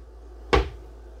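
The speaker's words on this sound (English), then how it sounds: "Again, full extending ball bearing drawer guided drawers." A full-extension ball-bearing guided drawer in a 2024 Forest River Vibe 28RL travel trailer kitchen pantry gives one short, close thud as it is pushed shut against a quiet room background.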